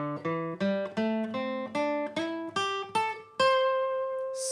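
Pentatonic scale notes played along a guitar neck, nine distinct plucked notes climbing in an even rhythm with slides between positions, ending on a longer ringing note, quiet and close with no voices.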